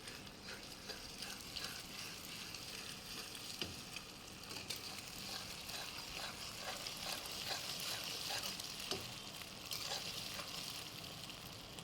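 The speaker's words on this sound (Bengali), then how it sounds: "কড়াইতে পরিমাণ মতো তেল দিয়ে ফ্যাটানো ডিমটা ভেজে নেব" Beaten eggs frying in hot oil in a wok, a steady crackling sizzle throughout with scattered pops and occasional faint scraping, close and fairly quiet.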